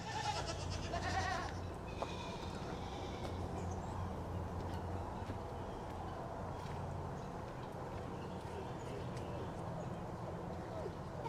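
Goats bleat on a wet, muddy farm, with a few calls near the start and faint farmyard stirrings under a steady background hiss, all fairly quiet and distant.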